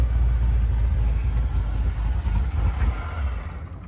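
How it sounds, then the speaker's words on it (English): A supercharged engine with a green supercharger belt runs loud and close, a heavy low rumble that surges and dips slightly before easing off at the end. "now you hear that supercharger"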